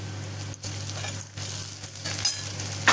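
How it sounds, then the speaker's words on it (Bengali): Spices with chopped garlic fry in a pan, a close, dense sizzle interrupted by several quick stirring scrapes that momentarily dip the hiss. "একটু মশলাটা ভেজে নেব"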